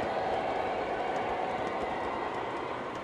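Model trains run on a large 1:32 scale railway layout, giving a steady, close rumble of rolling wheels with faint clickety-clack, continuous and even for the whole stretch with no talk.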